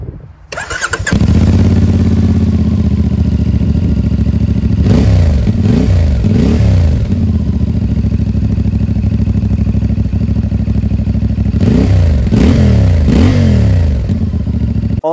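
A CF MOTO 450MT two-cylinder motorcycle starts up and settles into a loud, close idle, with a couple of short throttle blips partway through and again near the end.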